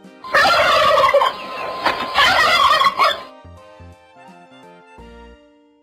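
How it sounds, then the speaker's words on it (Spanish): A turkey gobbles loudly twice in quick rattling bursts, close and clear, with soft background music behind. "El pavo."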